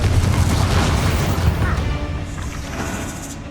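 Confringo blasting spell exploding in the video game Hogwarts Legacy, a loud low booming rumble with crackling debris that slowly decays over a few seconds.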